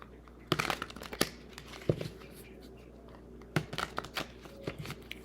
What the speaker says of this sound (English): Shuffle these really well.